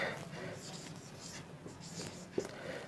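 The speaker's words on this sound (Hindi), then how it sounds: "अब इसमें पहले एग्जाम्पल हम लिख लें तब होगा आगे" Hand-writing of a language example at a teaching board: soft scratchy strokes, faint and close, with a few brief clicks and no speech over it.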